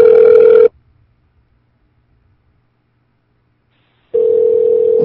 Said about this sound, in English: Michelle, I'm calling again